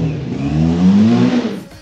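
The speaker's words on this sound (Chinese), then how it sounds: "通过油路直接，发动机也成功启动" An old Honda CB400 motorcycle engine, restored after years of disuse, starts and revs briefly and loudly up close, its pitch rising and then cutting off.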